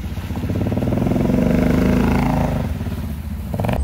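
A motorcycle rides past close by, its engine note swelling to a loud, buzzing drone and then receding, with a brief rev near the end.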